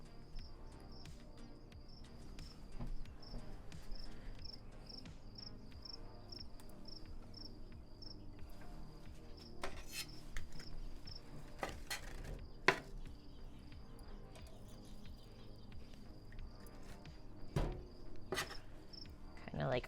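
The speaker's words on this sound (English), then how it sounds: "We got the crickets in the vineyard." Crickets chirp at night in a California vineyard, a steady pulsing trill running throughout behind an outdoor grill where corn cobs are cooking, with occasional clinks and knocks of cooking utensils.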